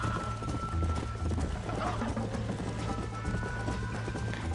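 A horse gallops in the video game Red Dead Redemption, with steady rapid clip-clop hoofbeats running throughout over a constant low game ambience.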